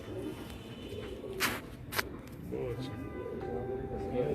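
Pigeons cooing at a bird gallery, soft low throaty coos under people chatting nearby, along with a couple of brief sharp knocks.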